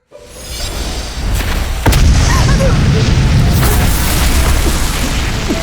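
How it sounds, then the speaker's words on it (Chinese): An explosion of a failed cement test piece in an animated scene sets off a loud boom with a sharp blast near two seconds, and dense rumbling debris and crackle continue steadily afterward. "水泥会爆炸，这合理吗？"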